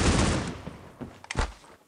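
Gunfire bursts in the shooter game Critical Ops, a dense volley at the start fading into scattered individual shots and a couple of sharper cracks near the end, fairly close and with no talking.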